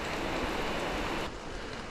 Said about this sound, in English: I guess this is a light rain in Pisgah.